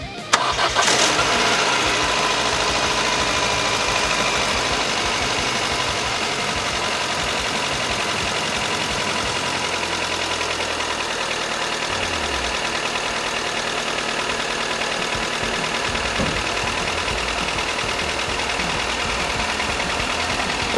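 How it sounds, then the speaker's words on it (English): A 2002 Saturn SL1's freshly rebuilt engine starts and settles into a steady idle, with a continuous rapid lifter ticking running through the running engine. "That ticking should subside as the lifters get full of oil."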